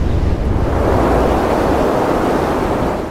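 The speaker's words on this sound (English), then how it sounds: "now that's a strong wind" Strong wind roars in the video game Never Alone, a loud continuous whooshing rush that stays dense and steady before easing slightly at the end.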